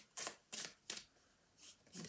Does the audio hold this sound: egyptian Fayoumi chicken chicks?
no